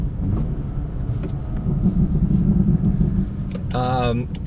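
BMW M2 with an inline six-cylinder engine, its exhaust giving a steady low rumble throughout, with a brief higher-pitched tonal whine near the end.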